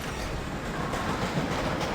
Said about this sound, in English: Wait, can I move both these trains?